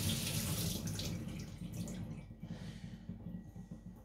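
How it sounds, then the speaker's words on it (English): Tap water runs steadily over a Patrik Carlvik Niolox nakiri knife as it is washed, a close, even hiss that softens and thins toward the end. "Just washing, of course, with my fingers going away from the edge."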